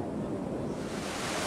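Ocean waves wash onto a rocky beach where shellfish are gathered in the dry season, a steady broadband surf roar with wind noise that stays loud and close throughout, with no voices.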